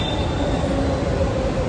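A metro train arrives at a station, a loud, steady rumbling roar with a faint metallic whine sustained from start to finish.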